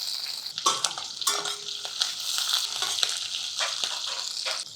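Mustard seeds, sliced garlic, curry leaves and chopped green chillies fry in hot oil with a bright, crackling sizzle and scattered pops, a spoon scraping and stirring now and then, close and fairly loud.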